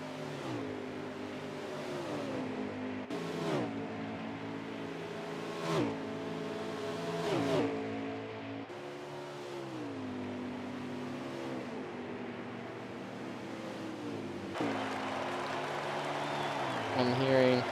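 Racing trucks from a NASCAR truck series at Kentucky roar past one after another, each engine note rising then falling as it passes, loud and repeated, with a voice talking over the engines.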